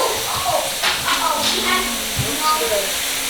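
Pork and beef liver sausage meat sizzles and hisses in a hot pan, a steady crackling spray with faint voices and clinks in the background.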